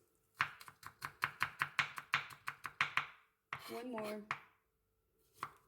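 A knife chops a vegetable on a cutting board in a quick run of about a dozen sharp, even knocks, followed by a short spoken phrase and one more isolated chop, close and clear.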